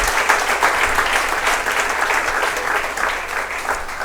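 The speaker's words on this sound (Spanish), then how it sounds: "Un aplauso a nuestro Señor." A church congregation claps together in steady, dense applause for about four seconds, filling the room evenly without a break.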